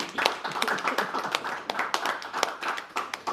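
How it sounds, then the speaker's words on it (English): An audience at a men's roundtable discussion event claps in a loose, moderately sized round of applause, individual hand claps distinct and uneven, heard fairly close and without talk over it. "let's give them a round of applause"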